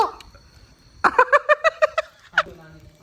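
A person imitates a duck with a rapid run of nasal, quacking honks, then one more squawk after a short pause.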